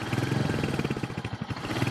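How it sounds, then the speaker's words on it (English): A Royal Enfield Hunter 350 motorcycle's exhaust thumps at a steady, rapid beat, a close, low-pitched single-cylinder pulse with no talk. "I want you to hear the exhaust, because the exhaust, once it gets wiggling along,"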